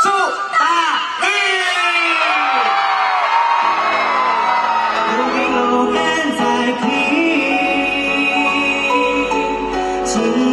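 At the Hsinchu Hakka Yimin cultural festival, an outdoor crowd whoops and cheers loudly for the band, with shouted voices rising and falling over a steady roar of people.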